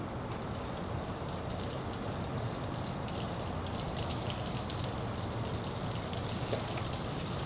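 Water running through a disconnected heater hose to flush a Cummins engine's cooling system, a steady, soft hiss and splatter that continues evenly throughout without pause.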